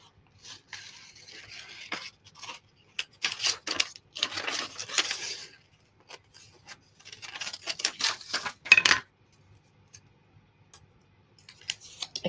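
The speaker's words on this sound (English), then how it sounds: "I cut out a little heart." Scissors snip through paper in short bursts of quick, close crisp cuts, shaping a small polka-dot paper heart, with brief quiet pauses between runs.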